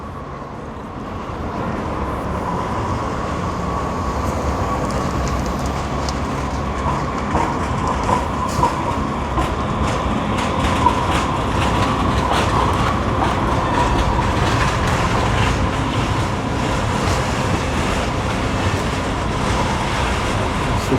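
A San Francisco Muni train rolls past near Church Street, a loud, steady rumble and clatter of wheels that runs continuously for about twenty seconds, with no talk.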